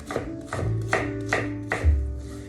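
Knife chopping onions on a board for chili verde, a handful of firm, evenly spaced chops about half a second apart, close and fairly loud with no talking.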